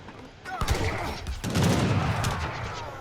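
Rapid crackling volleys of musket and cannon fire from auto-firing units in the Age of Empires III strategy game, a dense continuous fusillade at steady loudness with a commentator voice faintly underneath.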